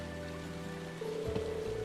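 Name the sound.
rain in a video game, Trails of Cold Steel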